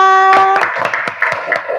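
A classroom of students gives scattered, uneven applause with sharp individual claps, right after a sustained voiced tone.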